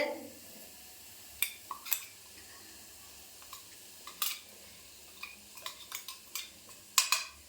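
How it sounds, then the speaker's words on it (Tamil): Mustard seeds, dried red chillies and cumin powder stirred in hot oil for tomato rasam, with soft sizzling under scattered clinks and scrapes of a spoon against the pan. "இது லேசாக அப்படி ஒரு பெரட்டிக்கலாம்"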